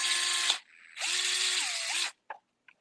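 A powered driver whirs in two sustained runs, loud and close, as it backs out the controller screws on a Sur-Ron electric bike's BAC4000 controller, followed by a couple of short faint clicks.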